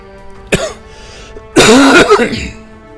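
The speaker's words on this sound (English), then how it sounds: "Yeah, I'll be glad when the coughing's done" A short sharp cough, then a longer harsh bout of coughing and throat clearing, loud and close.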